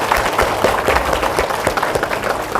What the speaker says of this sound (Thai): ขอเสียงปรบมือดัง ๆ ให้ท่านสักครั้งครับผม